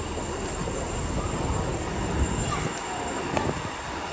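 An Avanti West Coast train runs into a station platform, a steady broad rumble of wheels and carriages with faint metallic squeals, heard from the platform at moderate distance with no talk over it.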